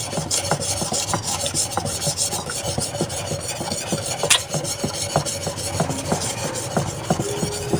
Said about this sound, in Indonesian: Sekarang kita poles. Ini sangat halus ya.